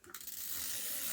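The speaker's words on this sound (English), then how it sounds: "I have some glue tape here" Glue tape runner rolled along paper while decorating a planner page, a quick close ratcheting click that blends into a steady scratchy rasp as the tape is dispensed, alone with no talk.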